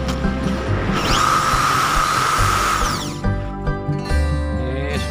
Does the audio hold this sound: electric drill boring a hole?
yes